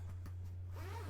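A zipper pulled open on clothing or a bag in a live-stream setting, heard as a short, quiet zip over a steady low electrical hum.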